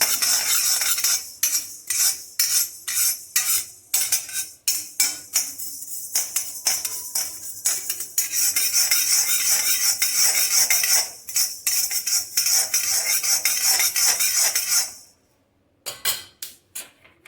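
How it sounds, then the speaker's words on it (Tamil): Coriander seeds dry roasted and stirred in a pan for horse gram powder, a rapid rhythmic clatter of a spatula scraping and tapping the pan, loud and close, with a brief pause near the end. "இது கொத்தமல்லி வேற நல்லா வறுத்துங்க."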